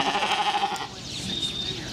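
Goats bleating on a farm, a long wavering cry up close followed by a fainter second bleat over some background noise.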